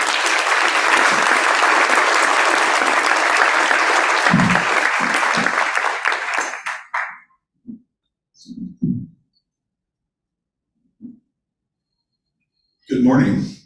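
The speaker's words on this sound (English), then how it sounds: "If you could please give him a round of applause" An audience at a business investment launch conference applauds a keynote speaker, a dense burst of clapping lasting several seconds before fading into scattered thumps and a few murmurs.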